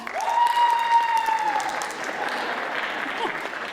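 Audience applause fills the hall at a school district centennial celebration, sustained clapping from many people, with a brief whistle or cheer rising early on.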